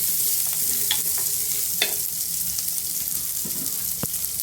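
Shallots and onion sautéing in a pan for mango pachadi, a steady soft sizzle with a few scattered spoon scrapes and taps close by, no talking.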